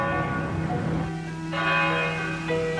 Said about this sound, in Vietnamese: Tao nghe được tiếng chuông.